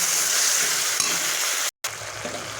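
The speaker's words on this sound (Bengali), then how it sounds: "এই দেখেন মশলা ভাজা হয়ে গেছে" Spices fry in a pan with tomato, kalonji and green chillies for a Bengali bata fish curry, making a close, steady hiss and sizzle with one short dropout partway through.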